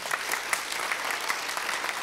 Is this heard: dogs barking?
no